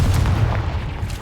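A Confringo blast spell explodes in the video game Hogwarts Legacy, a loud, close, rumbling boom that fills the whole short moment with heavy low-end roar and no talk.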